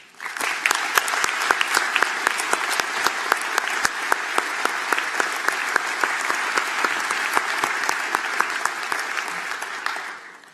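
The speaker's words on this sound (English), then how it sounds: "Let's give these special folks a great round of applause." Sustained round of applause from a large audience at a university engineering commencement ceremony, dense and steady for about ten seconds with scattered sharper claps, fading at the end.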